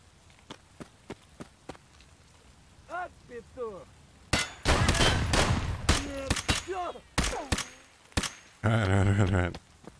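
Gunfire in Escape From Tarkov: scattered single shots at first, then a loud close volley of sharp cracks with metallic clinks, and a burst of rapid fire near the end, with a few faint voice-like sounds in between.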